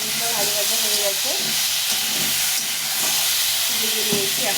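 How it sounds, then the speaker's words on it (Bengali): Ridge gourd and potato fry in a pan with a steady, close sizzle while a voice talks intermittently over it. "ঝিঙে আলুটা ভাজা ভাজা হয়ে গেছে"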